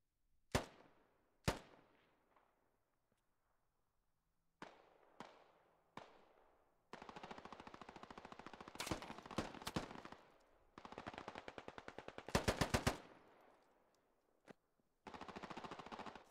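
Video game gunfire in a military squad shooter: sharp single shots, then long rattling automatic bursts and rapid volleys, loud and close, with quiet gaps between the firing and no talking.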